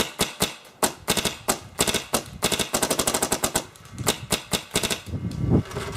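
Cyborg RX and Victory paintball markers fire close up in rapid alternating bursts, sharp snapping pops in quick irregular strings with brief pauses between volleys, loud and dry with no talk.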